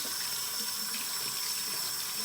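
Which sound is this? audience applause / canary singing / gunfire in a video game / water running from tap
water running from tap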